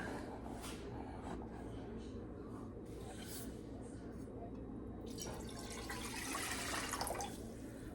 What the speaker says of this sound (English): You take your pan, freshly washed, she's beautiful, and dump in a decent amount of water.